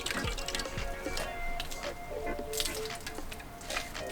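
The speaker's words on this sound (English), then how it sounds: "Let's pump some of the sanitizer out." Hand sanitizer pumped from a dispenser during home beer brewing, heard as quiet, close squishy liquid spurts and drips.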